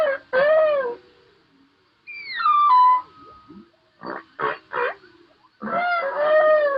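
Humpback whale song recorded by tags off Hawaii, with loud moaning calls, rising and falling whoops and short pulsed units, arranged in a patterned sequence with brief gaps between phrases.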